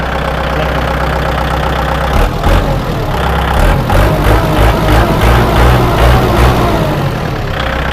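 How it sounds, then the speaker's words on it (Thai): A 2012 Kubota L4708 farm tractor sits idling at close range, then its diesel engine is revved with the hand throttle into a loud, steady, rumbling roar that holds. "เร่งติดมือนะครับลูกค้า"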